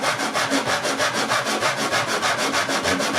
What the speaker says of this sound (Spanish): con la lija a plano, voy a ir lijando.